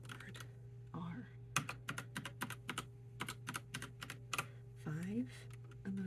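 Keys clack in quick irregular bursts on a Logitech Pop Keys mechanical keyboard, crisp and close, with brief pauses between runs, a steady low hum underneath and a soft voice murmuring now and then.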